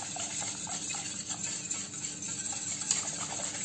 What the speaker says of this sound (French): Voilà, je mélange.